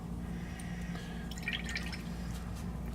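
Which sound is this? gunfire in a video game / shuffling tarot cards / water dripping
water dripping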